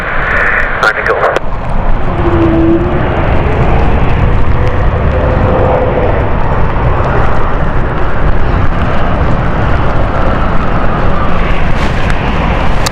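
An aircraft landing on runway 27 at London City airport on a stormy night, a steady loud engine roar and rumble running throughout with brief radio-like tones early on.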